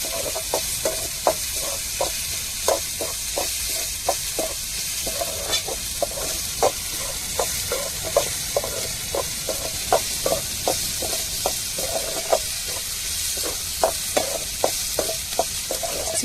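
Tomato, chili, ginger and garlic sautéing in a pan, with a constant bright sizzle and a regular rhythm of spatula scrapes and taps repeating roughly every half second.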